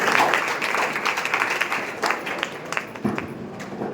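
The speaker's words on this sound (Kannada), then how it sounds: "ಚಪ್ಪಾಳೆ ಹೊರಬೇಕು" An audience at a Women's Day prize-giving for an essay competition claps for a winner, a lively burst of hand claps that gradually thins into scattered, uneven claps.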